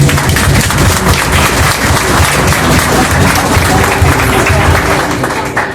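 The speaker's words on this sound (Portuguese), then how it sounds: "Vamos receber um aplauso." Steady, loud applause from a book-launch audience fills the room for several seconds, with scattered voices mixed into the dense clapping.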